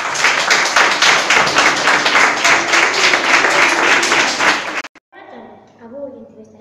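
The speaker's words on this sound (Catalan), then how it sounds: "Els fem un aplaudiment fort." A hall full of people breaks into strong, dense applause for several seconds, loud and sustained, which cuts off abruptly before a voice begins speaking.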